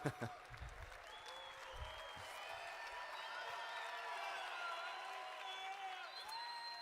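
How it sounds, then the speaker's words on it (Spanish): Conference hall crowd claps for a translator at a leadership event, sustained applause with scattered whoops and cheers, somewhat distant and steady throughout, with faint voices mixed in. "Y darle un aplauso para el traductor."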